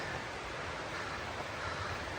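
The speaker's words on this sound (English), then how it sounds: "Nice little stream going by, fresh water." Small freshwater stream flowing past a campsite on the Pacific Crest Trail near Stehekin, a constant broad rushing wash, close and steady with some wind buffeting, no voices.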